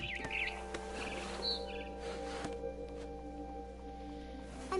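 A barn swallow in the video game What Remains of Edith Finch gives a few faint, brief chirps near its nest over a low, steady ambient hum.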